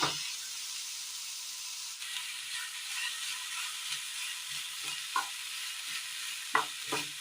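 Chopped raw banana stir-fried in a hot pan: a steady sizzle runs throughout, broken by scraping, clacking strokes of a spatula as the pieces are tossed and stirred.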